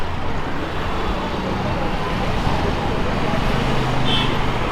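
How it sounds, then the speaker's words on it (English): Busy street traffic in Mumbai, a steady close wash of car and motor noise that continues without a break, with no voices standing out. "Lot of traffic."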